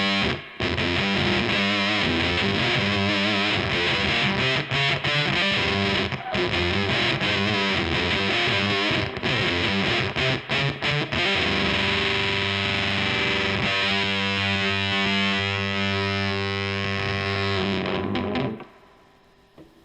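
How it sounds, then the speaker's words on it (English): Electric guitar run through a Teisco Instant Blue Orchid pedal, a dense, loud distorted glitch tone with warbling, slightly out-of-tune doubled notes sustained almost continuously, then cutting off near the end. "It kind of does that glitchy thing where it almost makes, if you play two notes at the same time, it makes them sound out of tune."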